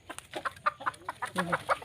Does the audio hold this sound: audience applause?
no